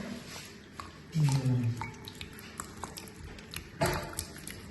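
A few soft plops and drips as slices drop into water, scattered and fairly quiet, with a brief voice murmuring in between.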